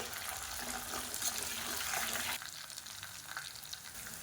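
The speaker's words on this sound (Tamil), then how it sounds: "வெங்காயம் நல்லா அப்படியே ப்ரௌன் கலரில் வதங்கிடுச்சு பாருங்கள்" Small onions and whole garlic cloves sauté in hot oil for a kulambu, giving a steady, fairly quiet sizzle and crackle that drops in level partway through, with no talking.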